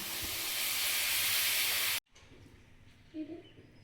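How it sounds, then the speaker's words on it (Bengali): Water poured into a pan of fried vegetables sends up a loud, broad hiss of steam that stays steady for about two seconds and then cuts off abruptly, leaving faint kitchen noise and a brief low clatter. "সবজিটা ভাজা হয়েছে, জল দিয়ে দেবো।"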